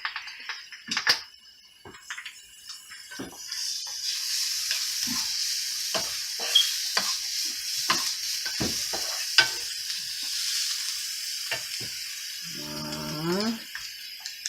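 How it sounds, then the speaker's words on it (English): Vegetables for a chicken pot pie sauté in a pan with a continuous bright sizzle and repeated scrapes and taps of a utensil, close by, with a short clatter near the end and no talking. "So right now, I am sauteing the vegetables."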